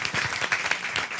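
A short burst of audience applause at a live comedy and improv podcast recording, a brief dense patter of many hands clapping close by.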